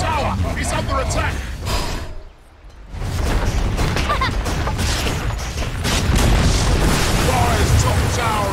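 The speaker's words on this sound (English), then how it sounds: "Dire's top tower has fallen!" Dire's top tower collapsing in Dota 2, with heavy booming crashes and rumbling debris over dense battle noise, a brief quiet gap, then sustained loud crumbling and impacts under an announcer voice.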